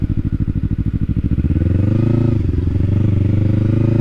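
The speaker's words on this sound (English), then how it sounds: "Let's see how easy it is to U-turn this bike." A 2012 Kawasaki Ninja 250R motorcycle making a slow U-turn, its engine close and loud, a chugging idle that rises into a steady, smoother drone as the bike pulls around.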